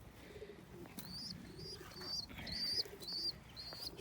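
Pigeons coo softly in a coop, a low rolling coo repeating through the clip while sharper chirps and tweets cut in above it, all fairly close and with no talk.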